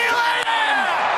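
Dense crowd noise at a men's BBL cricket match at Junction Oval, a loud continuous roar of cheering and yelling packed close, with no individual voices standing out.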